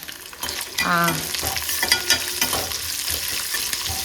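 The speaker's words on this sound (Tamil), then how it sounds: "இப்போ இதை ஒரு வதக்கு வதக்கிட்டு இருங்க வதக்கிறேன்" Grated coconut with poppy seeds, fennel and cashews is sautéed and stirred in a hot pan, giving a close, continuous sizzle with scraping stir strokes and a brief tonal clink near the start.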